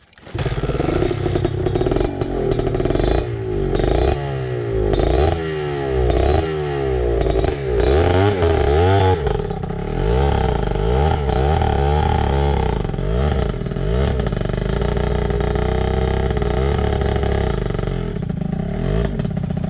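A motorcycle engine labors at low power on a steep, extreme mountain trail up to Puncak Watu Langak in East Java, running continuously with uneven throttle surges, rattling clatter and scraping, loud and close.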